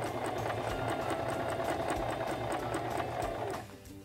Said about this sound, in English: Now we can use our foot pedal and press down. And we're just going to guide the fabric.